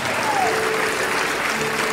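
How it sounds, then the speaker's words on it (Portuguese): A church congregation claps together in praise during a service, loud sustained applause with a faint voice tone drifting underneath. "Vamos aplaudir mais o Senhor Jesus."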